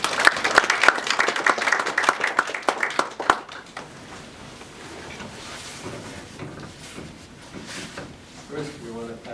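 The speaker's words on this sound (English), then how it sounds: "Let's give them an applause." A lecture audience at Brooklyn College applauds, loud dense clapping for about three seconds before it thins out into scattered claps, room murmur and some speech.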